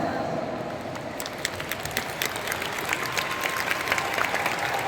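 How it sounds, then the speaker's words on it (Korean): A corporate audience claps for the leaders seated in the front row, a continuous round of applause with sharp individual claps standing out, fairly near and steady throughout. "이 앞줄에 있는 리더분들에게 감사의 의미로 박수를 한번 보내주셨으면 좋겠다"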